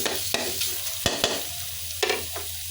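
Chicken with Thai curry paste is dry stir-fried in a pan, with a soft steady sizzle broken by a few sharp scrapes and knocks of a spatula, close and fairly quiet, with no talking.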